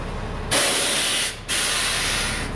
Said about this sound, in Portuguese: Vou mostrar aqui a suspensão a ar.